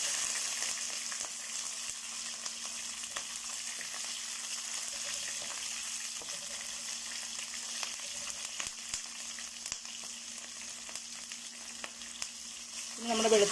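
Green chillies crackle and sizzle in hot oil with popping mustard seeds and dried red chillies, a steady close frying hiss with a brief louder burst of spluttering at the end.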